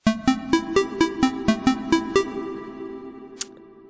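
Synthwave arpeggio preset from LMMS native instruments plays a plucky run of about ten bright, evenly spaced notes up close, then rings out and fades with one faint tick near the end.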